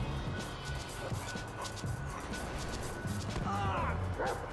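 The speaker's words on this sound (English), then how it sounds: "Put that dog on a leash!" A dog attacking in the video game Grand Theft Auto V, giving short barks and whimpering yips over constant game street noise, with brief shouting from a man.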